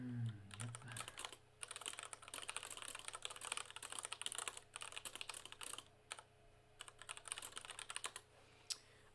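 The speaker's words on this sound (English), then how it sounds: "Typing is fun." Rapid typing on a computer keyboard, a dense run of close, crisp key clicks with brief pauses, fairly quiet and without talk.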